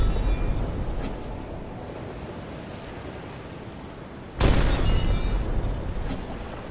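Torpedo hitting a ship in U-Boat: The Silent Wolf VR, a sudden loud explosive boom bursting over a steady ocean-like wash of wind and water, then rumbling on.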